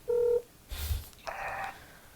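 A telephone is being dialled: a short, clean keypad tone sounds first, then a soft rustling, breathy noise and a brief buzzing electronic tone. Everything is quiet and close, with no talking.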